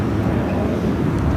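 Airliner departing LAX on a flight to Dallas Fort Worth, a steady broadband engine roar heard at a distance, continuous and fairly loud with no voices over it.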